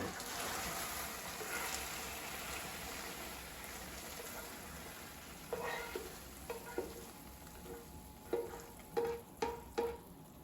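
Steady sizzling of beef teriyaki frying in a pan, joined in the second half by a series of clinks and scrapes from a utensil against the pan.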